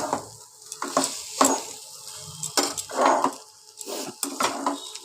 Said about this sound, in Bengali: সেদ্ধ চাউমিনগুলো এবার এর সাথে সবজির সাথে একবার একবারে চাউমিনগুলো ভালো করে নাড়াচাড়া করে নেব